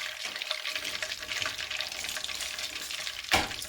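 Fish fries in hot oil in a pan, a steady crackling sizzle up close, with a brief louder spatter near the end and no voices.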